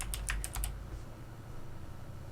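Quick, crisp keystrokes on a computer keyboard typing a search term into a browser's search box: a short burst of about half a dozen clicks, then quiet room tone.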